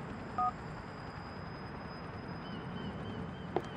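Mobile phone keypad beeps in GTA IV: a short two-tone dial burst near the start, then a faint electronic blip later over a steady low in-game background hum.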